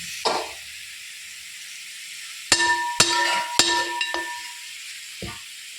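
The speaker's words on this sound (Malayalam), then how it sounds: "നല്ല രീതിക്ക് ഇളക്കി കൊടുക്കണം." Chicken curry masala with onions stirred in a pan, giving a steady sizzle and hiss with several sharp spoon scrapes and clinks against the metal, close and moderately loud.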